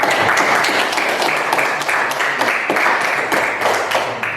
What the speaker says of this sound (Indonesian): Mari kita berikan aplaus untuk kelompok.